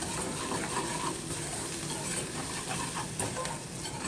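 A spicy masala mixture stirred in a pan until the oil separates, giving a steady soft sizzle with scraping stirs of the spoon and no voices.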